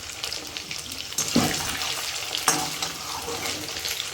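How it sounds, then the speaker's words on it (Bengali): Chicken pieces fry in hot oil for chilli chicken, a close, continuous crackling sizzle broken by a couple of sharp clatters from pieces being added or stirred, without any voices. "কি সুন্দর ভাজাটা হচ্ছে।"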